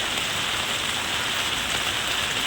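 Heavy monsoon rain pours down steadily, a dense, even hiss of falling water that stays close and constant throughout.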